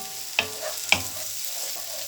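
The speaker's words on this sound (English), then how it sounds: "So giving that a good stir." Vegetables are stirred in a hot pan, two distinct scraping strokes of a utensil over a soft continuous sizzle, close and fairly quiet.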